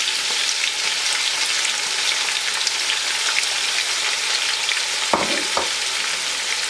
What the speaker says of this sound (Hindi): तो ये तो इसको अच्छे से यहाँ पर फ्राई कर लेते हैं हाई फ्लेम पर